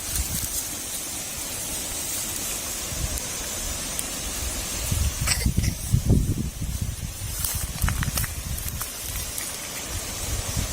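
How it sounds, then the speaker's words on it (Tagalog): Steady rain patters all around in a constant hiss, with occasional rustles and low thumps closer by. "Yan, may ulan."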